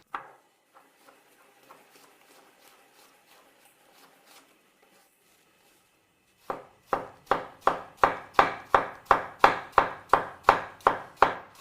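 A knife slices cooked potato pieces for potato salad on a cutting board: after a few soft taps, a rapid, steady run of about a dozen crisp chops sounds close and clear, with no talking.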